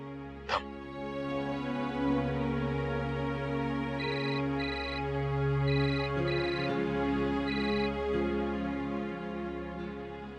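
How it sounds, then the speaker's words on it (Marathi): A phone ringback tone repeats in a steady pattern of short tonal bursts over a low background hum, with no one speaking. "मी ना राजाला फोन लावतो."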